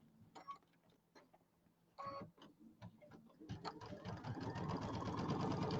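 A sewing machine stitches a quarter-inch seam along the top and bottom borders of a quilted bench pillow, starting with scattered clicks and short bursts, then running steadily and loudly for the final couple of seconds.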